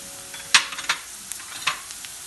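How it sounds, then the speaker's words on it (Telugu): Ginger garlic paste frying in a pan for Gobi Manchurian, a low sizzle broken by a few sharp scrapes and clacks of a spoon stirring against the pan, with no talk. "జింజర్ గార్లిక్ పేస్ట్ కూడా వేసుకున్నాము. ఇవి బాగా వేయించుకున్నాము."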